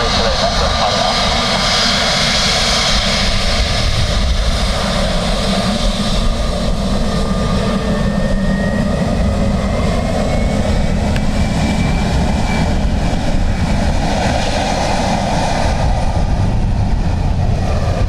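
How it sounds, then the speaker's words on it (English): A Blue Islands ATR turboprop airliner arriving from Jersey lands at Dublin Airport on runway 28 left in a gusty crosswind, its steady, loud engine roar sustained throughout with broad wind-like rumble and no pause. "Blue Islands ATR coming in from Jersey"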